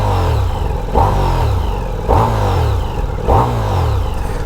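A 2026 Ducati Diavel V4 engine revs hard three times, each sharp rise in pitch falling back to a throaty idle, loud and close.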